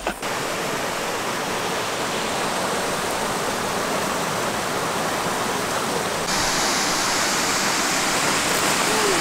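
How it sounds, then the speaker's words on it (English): A hidden waterfall called Devil's Cauldron along a hiking track rushes in a constant, dense roar of falling water, close and unbroken, with no voices. "So we found a secret waterfall."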